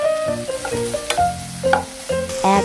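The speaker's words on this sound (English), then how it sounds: "Grease the pan with sesame oil and cook the bulgogi." Bulgogi cooking in sesame oil in a pan, with close, distinct spatula scrapes and knocks at a steady rhythm over a light sizzle.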